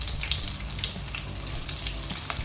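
Green chilies and curry leaves sizzling steadily in hot oil, a dense continuous crackle and hiss close up with small bursting pops throughout.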